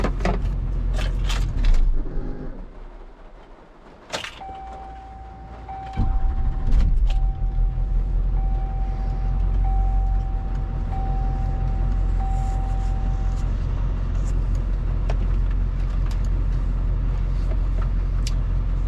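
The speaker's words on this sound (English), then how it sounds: "I'm going to shut the truck off and then start it back again and see if anything changes." Medium-duty truck is shut off and then restarted, its engine rumble dropping away to a quiet lull before cranking back to a steady idle, with a long electronic tone sounding during the restart and no one talking.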